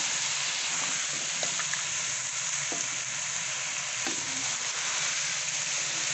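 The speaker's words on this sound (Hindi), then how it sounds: "गाजर को भी इसी तरह 6 से 7 मिनट, गाजर जो है ज़रा देर से गलती है, 6 से 7 मिनट अच्छी तरह फ्राई करना है।" Carrots and mixed vegetables frying on high flame, a dense, unbroken hiss of sizzling oil with a few faint stirring knocks, close and even in loudness.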